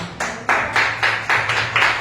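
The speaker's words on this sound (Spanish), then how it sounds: "Pero me fuerte aplauso de eso, hermanos" A church congregation claps together in slow, even unison, a series of about seven loud distinct claps spaced roughly a quarter second apart, with no talking over them.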